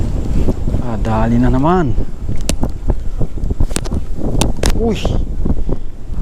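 Strong wind buffets the microphone outdoors while fishing for snakehead and tilapia, a steady broadband roar running beneath loud, close talk and an excited shout.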